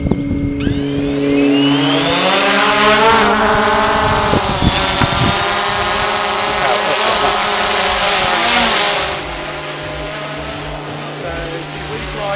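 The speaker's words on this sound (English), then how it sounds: "So you start the motors up" Drone motors start up for a survey flight outdoors, spinning up from near silence into a loud rising buzzing whine with shifting tones, holding steady, then dropping off toward the end.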